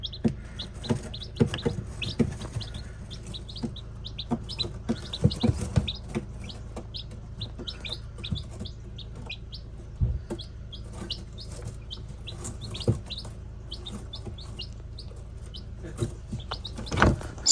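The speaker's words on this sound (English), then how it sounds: "this morning I've had delivered 5 little bantam chicks" Five newly delivered bantam chicks on a farm give a continuous stream of high, thin peeps. The peeps overlap close by over a low rumble of background movement and handling noise.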